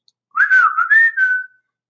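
A person whistles a short melodic phrase of a few sliding, sustained notes, clear and close, with no other sound around it.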